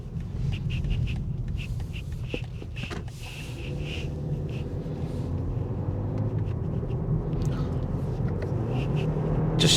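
A 2024 BMW 320i M Sport engine drones steadily while driving, a low continuous rumble that holds throughout with faint rattles and cabin noises over it.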